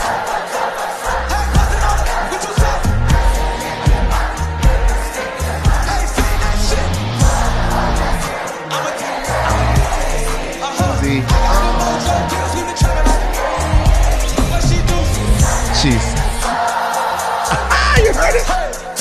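A huge festival crowd at Wireless Festival in England sings along loudly to a rap song playing over the speakers, the mass of voices and heavy bass blending continuously throughout.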